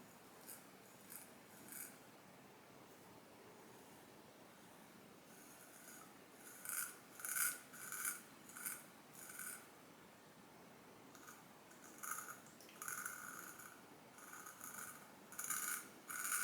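A straight razor makes its first pass with the grain through lathered stubble, with soft scraping strokes coming in short bursts and pauses, quiet and close up.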